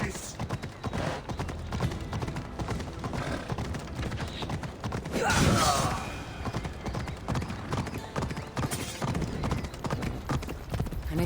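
Horse hooves clip-clop steadily in a fantasy role-playing game, a continuous trotting rhythm under game music and effects, with a brief whinny partway through.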